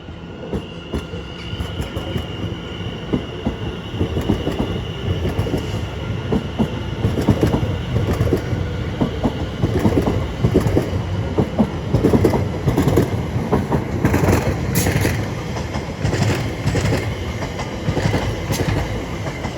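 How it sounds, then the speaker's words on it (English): Greater Anglia Class 720 electric train running through Shenfield station, a loud continuous rumble with rhythmic wheel clatter and faint squeal, close by and steady throughout. "the slightly delayed 12:05, Greater Anglia service to London Liverpool Street from Southend Victoria"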